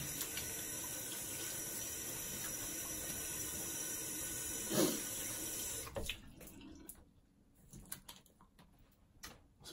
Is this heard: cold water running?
yes